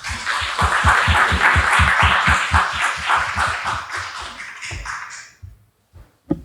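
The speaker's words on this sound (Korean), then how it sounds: "3부 세션에 참여해주신 저희 참석자 패널 여러분들께 다시 한번 박수 부탁드리겠습니다" Audience at a university admissions policy forum conference applauding after a panel session, dense sustained clapping from a crowd that thins and fades out near the end.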